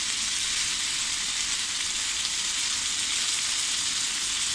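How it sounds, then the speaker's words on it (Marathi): Potato, cauliflower and peas stir-frying in a pan give off a steady, close sizzle that holds at an even level throughout, with no voices. "थोडं आपल्याला असं परतून घ्यायचं आहे."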